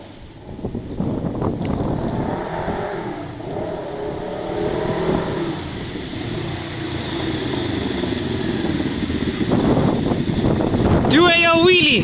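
A Kawasaki ER6n streetfighter project motorcycle rides past with its exhaust revving and rising in pitch, mixed with wind buffeting on the microphone.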